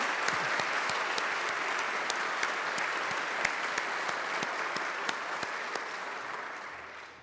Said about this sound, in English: I invite all of you now and your guests to join me in applause